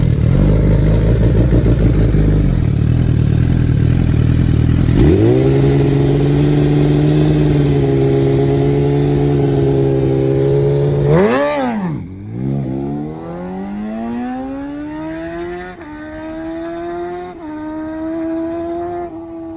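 A drag racing motorcycle idles roughly, then launches down the strip with a loud, sustained high-revving engine howl, a sharp shift burst, and fading revs as it rolls off the throttle at a distance.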